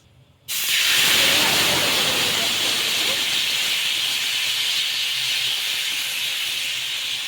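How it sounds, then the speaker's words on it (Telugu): Sabudana dosa batter hits a hot pan over a high flame and bursts into a loud, close hiss that begins abruptly and then holds steady as a sustained sizzle, fading only slightly. "ఈ దోశ వచ్చేసి హై ఫ్లేమ్లోనే చేసుకోవాలి పిండిని మళ్ళీ ఒకసారి కింది నుంచి ఒకసారి ఇలా కలిపేసుకొని వేసుకోవాలి"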